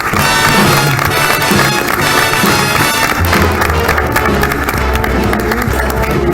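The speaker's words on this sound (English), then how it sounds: "welcome him warmly with a round of applause" Loud, steady applause from a large crowd at a comedy roast fills the whole stretch, with cheering mixed in and a low musical hum underneath.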